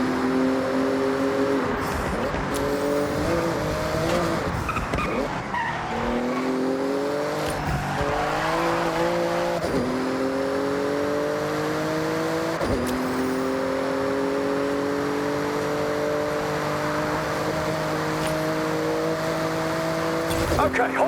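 A Porsche in the Forza Horizon 6 video game races through a speed zone, its engine droning loud and steady with repeated rising whines as it shifts up through the gears, tires briefly squealing early on, with a voice talking over it.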